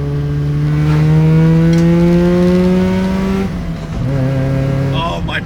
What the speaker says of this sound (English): Dude, NA rotaries sound really good.